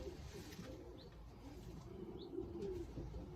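Racing pigeons coo softly in a loft, low murmuring calls faint and continuous with a couple of brief higher chirps.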